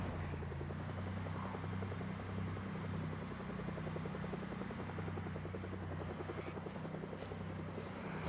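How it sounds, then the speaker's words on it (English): A helicopter flies in a video game, its rotor beating in a steady, rapid low chop under constant engine drone. The sound runs alone and evenly at moderate loudness. "We're flying the heli."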